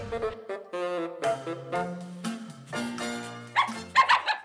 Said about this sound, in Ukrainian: У нее хоть три лапы, но она очень мощная. Сильная собака.